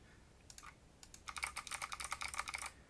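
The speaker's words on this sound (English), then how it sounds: "As we type in, we get in that console log from over here." Fingers type on a computer keyboard while coding a to-do web app, a few scattered keystrokes giving way to a quick, steady run of soft clicks, fairly quiet with no voices.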